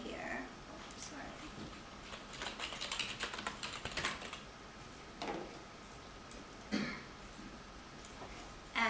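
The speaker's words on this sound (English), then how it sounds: "So I'm going to type Hemingway here." Someone types the name Hemingway on a computer keyboard, the keystrokes coming as clustered clicks under a murmuring voice and an occasional throat sound, with short pauses between bursts.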